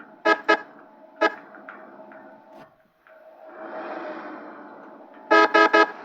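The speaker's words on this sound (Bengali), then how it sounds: "ডিপার মারতেছি, হর্ন দিচ্ছি, তারপরেও সাইড দেয় না" A bus horn honks on a busy road: a double toot, a single blast, then a rapid triple burst near the end, loud and close over the low rumble of traffic.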